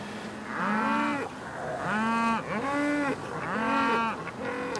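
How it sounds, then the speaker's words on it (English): Thirsty cattle aboard a ship low repeatedly, four or five long, drawn-out moos in a row, loud and fairly near, with no talk over them. "Cattle. Thirsty brutes, sir."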